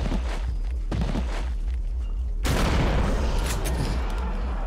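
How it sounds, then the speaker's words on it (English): Shotgun fire in Eternal Darkness: Sanity's Requiem on GameCube, heavy low booming under ongoing game noise, with a sudden loud broadband blast near the middle that stays harsh and dense to the end, close and without speech. "Let's finish him with the shotgun"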